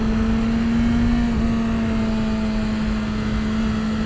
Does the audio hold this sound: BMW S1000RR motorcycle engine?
yes